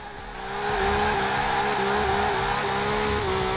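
A car drifting in the Forza Horizon 4 racing game, tires squealing in a sustained, loud wavering screech over a steady engine drone, with no talk.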